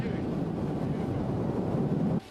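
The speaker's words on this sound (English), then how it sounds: "It's windy here, cracking." Strong wind buffeting the microphone on a coastal cliff path near Tintagel in Cornwall, a continuous close low roar and rumble that stays loud throughout, then drops off abruptly at the end.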